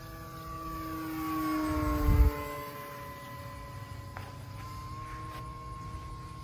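RC sports-scale P-51 Mustang model plane with an electric motor flying overhead, a whining drone that swells as it passes close, with a Doppler pitch drop, then fades to a steady distant hum.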